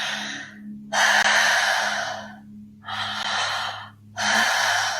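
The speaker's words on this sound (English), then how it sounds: "Keep breathing." Slow, deep breaths during a guided breath awareness exercise: three long, loud airy inhales or exhales close to the mic, separated by brief quiet pauses, with no talking.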